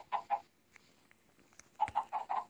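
Chickens cluck in the Minecraft PE video game, a pair of quick close clucks followed after a short pause by a rapid run of several more.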